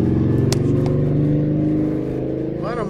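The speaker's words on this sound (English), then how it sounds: "A lot of motorcycles out here lately." A motorcycle engine rumbles outside with steady low throbbing that eases off, then a faint rising rev near the end, heard behind a voice talking.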